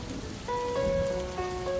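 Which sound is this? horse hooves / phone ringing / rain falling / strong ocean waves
rain falling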